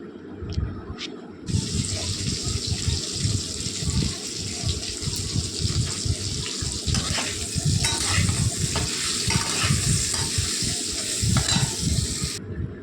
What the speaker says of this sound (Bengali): পেঁপে, কাঁচকলা আর করলাটা তো দিতেই হবে। একটু ভাজা ভাজা করে নেব।